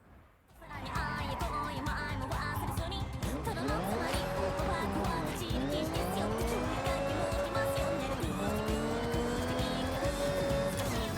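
A high-revving car engine in the Forza racing game roars continuously and loud, with pitch rising and falling through gear changes and some tire squeal.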